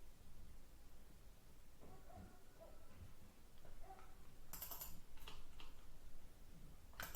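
Computer keyboard typing during a lecture: a few scattered soft key taps, then a brief cluster of quicker, sharper clicks over a steady background hiss.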